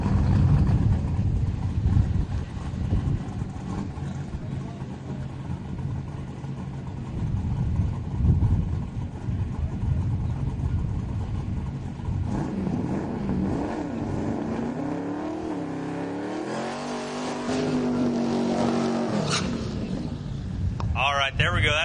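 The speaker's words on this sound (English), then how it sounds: "Not so happy with the burnout." A 1966 Chevy II drag race car roars through a burnout at a drag strip, the engine holding a loud sustained howl before pitching up and rising toward the end, with a crowd and announcer-style talk mixed underneath.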